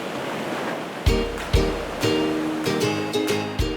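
Big ocean waves crash against the coral reef rocks at Sawarna beach, a series of loud surging impacts about every half second to a second, each followed by hissing wash, with steady surf roar between them.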